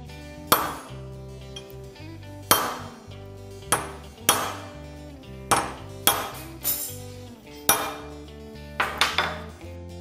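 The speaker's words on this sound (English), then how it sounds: "316 stainless is pretty hard, so to center punch it takes a good wallop" Sharp metallic hammer blows on a center punch driven into a piece of 316 stainless steel, about a dozen loud ringing strikes spaced irregularly, each with a short clanging decay.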